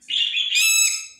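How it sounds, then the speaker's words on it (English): A baby bird gives a loud, close, rising and falling chirp, bright and squeaky, lasting about a second with no other sound around it. "So cute, baby bird."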